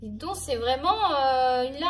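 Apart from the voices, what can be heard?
No distinct noise like a dog, phone or traffic.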